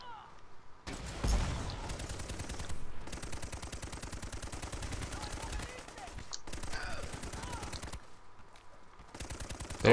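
Rapid automatic gunfire from a firefight in the video game Army of Two: The Devil's Cartel, bursts of close machine-gun rattle broken by short pauses, with voices talking amid the shooting.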